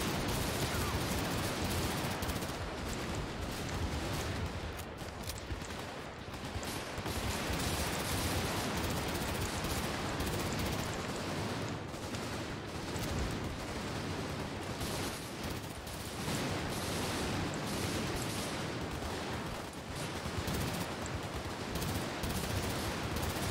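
Shotgun blasts in the video game Garry's Mod, a dense, harsh barrage of repeated booming shots with crackling noise throughout, loud and continuous, brief lulls near the five- and fifteen-second marks, voices faintly mixed in.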